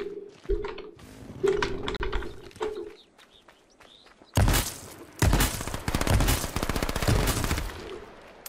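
Rapid bursts of gunfire from shooting in the H1Z1 video game, loud and close, with dense volleys in the second half after quieter mechanical clicks and game sounds.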